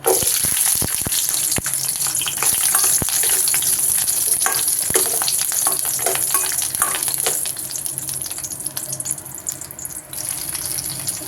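Dried red chillies, small shallots and tamarind frying and being stirred in hot oil, a loud steady sizzle with repeated sharp scrape and clatter sounds from the utensil against the pan.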